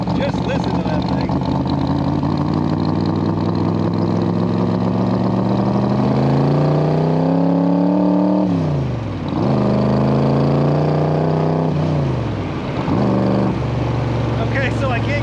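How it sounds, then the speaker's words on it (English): A 1965 Shelby Cobra Backdraft replica with a modern 550-horsepower engine revs hard. The loud, close engine note rises and falls through several throttle blips, dipping between revs, with talk over it. "Today we're driving an awesome 1965 Cobra Replica with a modern power plant. Just listen to that thing."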